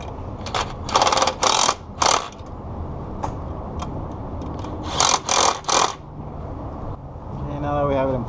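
Ratchet tightening bolts on the knock sensor of a supercharged 2003 Nissan Xterra, heard as several short bursts of clicking in two clusters, close and moderately loud, with a voice speaking briefly at the end.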